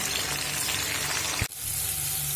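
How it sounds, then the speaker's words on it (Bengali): Salted paneer pieces frying lightly in hot oil, a steady close sizzle that dips briefly, then returns brighter and hissier. "আগে আমি পনিরগুলো হালকা করে ভেজে নেব"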